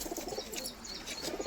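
Low, throaty cooing from a group of high-flying pigeons, rolling in soft repeated phrases near the listener, with faint higher chirps mixed in and no one talking.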